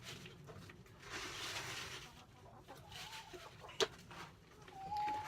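Chickens on a smallholding clucking nearby, soft repeated murmuring clucks with one sharp squawk partway through and a higher call near the end, fairly quiet with no talking.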